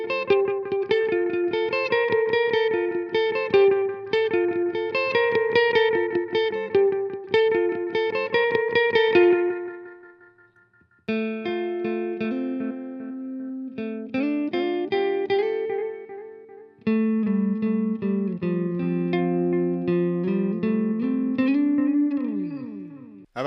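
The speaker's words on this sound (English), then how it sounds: "We've got reverb, why not add some delay?" Electric guitar through a 1972 Fender Super Reverb amp with delay and reverb, playing clean, ringing chords and single-note lines with echoing repeats, a brief pause near the middle, then more arpeggiated phrases.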